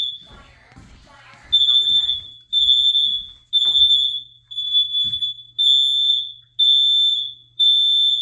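An interconnected emergency fire and carbon monoxide alarm in a residential living room sounds loud, piercing, evenly spaced electronic beeps, seven in a row. A voice speaks briefly before the beeping starts.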